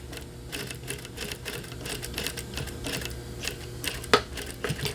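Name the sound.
sewing machine stitching a fabric dart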